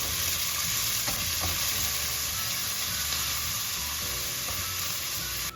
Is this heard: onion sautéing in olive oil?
yes